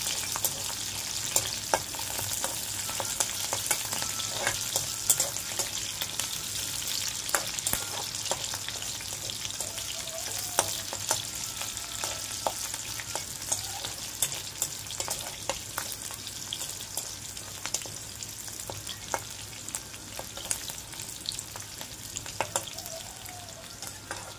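Oil and greens fry in a pan for a data shak bhaja before the onions go in, a continuous soft crackling sizzle with scattered light taps and scrapes of a spatula, steady and moderately quiet throughout with no talking.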